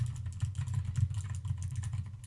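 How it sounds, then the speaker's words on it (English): Fast, steady keystrokes on a Razer keyboard with green clicky switches patter as a continuous run of crisp clicks, moderately quiet and close, with a low hum underneath and no talking. "here we'll do the keyboard test so you can hear how that sounds with that Razer green clicky switch in the background"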